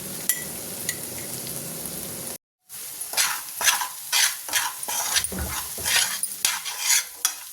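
Potatoes with coriander powder and red chilli powder fry in a pan for a bottle gourd and potato dish, a sizzle that cuts out briefly, then returns with repeated rhythmic scraping stirs and utensil clinks.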